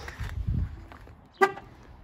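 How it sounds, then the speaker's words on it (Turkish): A Seat Ibiza gives a single short horn chirp as it locks, a sharp close toot after some faint shuffling and low rumble. "Kilitlerken kornalı uyarı"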